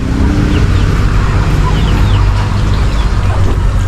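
A brooding hen clucks among chickens and ducks in the middle of a dense, loud rural outdoor din, with faint chirps and a steady rumbling background throughout.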